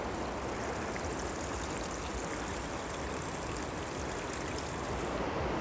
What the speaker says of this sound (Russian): Небольшой водопад.